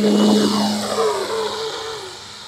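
An OMP Hobby Bushmaster 65-inch RC plane taxis on the ground, its electric motor whining in falling and rising tones close by, with rolling tire noise beneath.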